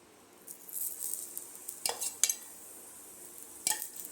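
An aloo paratha cooks on a pan with oil, a faint, quiet hiss of sizzling broken by a few sharp scrapes and taps.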